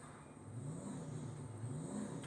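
A police car in GTA V revs and accelerates with its hood pushed into water, giving a faint, steady engine whir whose pitch swells and dips slightly.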